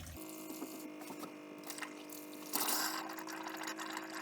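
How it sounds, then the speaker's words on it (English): Water sputters and gurgles from a motorhome's cold water tap during a leak repair, a faint trickle over a low hum that swells into a louder rushing pour halfway through. "It's gurgling."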